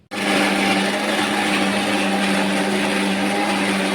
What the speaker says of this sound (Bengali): আদা রসুন আর ভাজা পেঁয়াজ, জিরে এগুলোকে ভালো করে গ্রাইন্ডারে গ্রাইন্ডিং করে নেবেন।